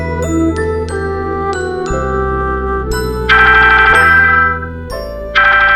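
A phone rings with a bright, melodic ringtone for an incoming call, sounding as a loud tune of repeated chiming notes that shift in pitch, heard close and alone with no talking.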